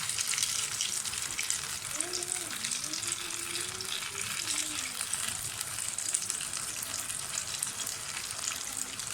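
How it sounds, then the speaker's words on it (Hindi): Potato pinwheels deep-fry in oil over low heat, giving a soft, even bubbling sizzle that stays steady and fairly quiet throughout, with a faint tonal warble underneath. "डिप करके तो फ्राई करने के लिए रखते हैं। पहले ऑयल गर्म था, अब मैंने इसको हल्का कर दिया है।"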